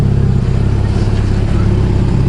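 A turbocharged all-wheel-drive Honda Accord with a custom-fabricated exhaust and a small exhaust leak sends out a steady, deep, throaty engine rumble, heard up close with no talking.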